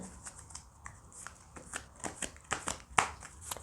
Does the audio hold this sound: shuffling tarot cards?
yes